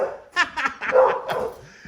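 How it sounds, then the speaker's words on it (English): A dog barks several times in quick succession, fairly close, with short yips and whimper-like notes, and no talking. "this is about as far as we're gonna get on this with the dog barking in the background"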